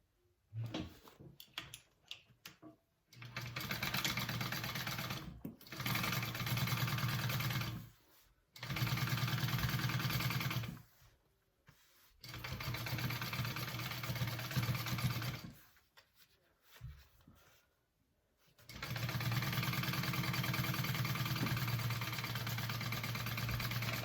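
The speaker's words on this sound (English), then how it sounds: "we are going to top stitch that 3/8 inch seam allowance" A sewing machine top stitching a 3/8 inch seam allowance on a bucket bag hums steadily in several long runs, stopping briefly between each, close and fairly loud with no talk.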